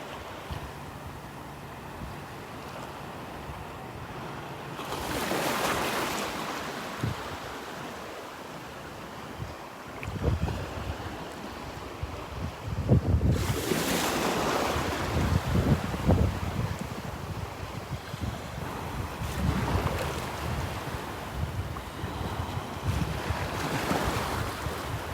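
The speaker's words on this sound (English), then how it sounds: "Little waves rolling in." Small ocean waves at Delnor-Wiggins beach wash in with rolling surges, two louder breaks, steady wind noise and a soft constant hiss, with no voices.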